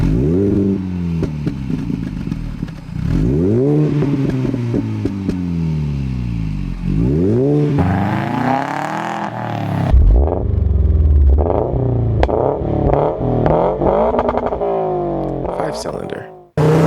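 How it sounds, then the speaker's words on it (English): A four-cylinder car engine revs repeatedly, pitch climbing and falling in several loud sweeps, with a sharper, higher-revving burst in the middle and a sudden cut at the end. Close and loud, with no speech over it. "This is a 4-cylinder."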